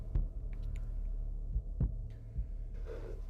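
A slow heartbeat sound effect plays in a Pathfinder 2e tabletop role-playing game scene: soft, low thumps land at uneven intervals over a quiet hum, with no talk.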